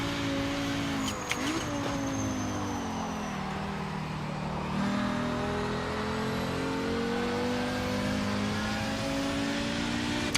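The engine of a race car on a qualifying lap in a video game, running loud and steady from inside the car, with the pitch sweeping up and down through the gear changes, plus a brief tick near the start.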